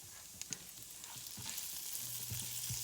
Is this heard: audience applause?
no